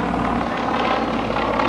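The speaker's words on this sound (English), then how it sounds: "A 9-cylinder radial engine" The nine-cylinder radial engine of a Nanchang CJ-6 aircraft at an air show gives a loud, rough, throbbing drone with propeller buzz, sustained and steady from start to finish.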